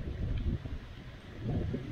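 Wind buffets the microphone of someone riding an e-bike fitted with Schwalbe Marathon Plus Tour tyres, a steady low rumble that surges and eases over about two seconds, with no voices.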